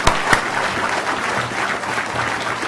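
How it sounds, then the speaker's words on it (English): Audience applause closing a City Law Breakfast talk, a dense, steady wash of many hands clapping at moderate volume, with a couple of sharper claps near the start and a faint low hum beneath. "let's have applause."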